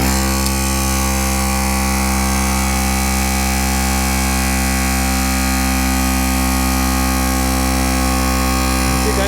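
A portable air compressor for motorcycle tyres pumps without pause, a loud, steady, buzzing mechanical drone that holds unchanged throughout.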